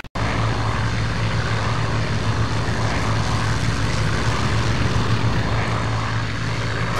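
Propeller fighter planes in the World War II flight combat game IL-2 Sturmovik, over the Eastern Front near Smolensk in 1941, make a loud, steady engine drone with a low throbbing hum that holds without a break.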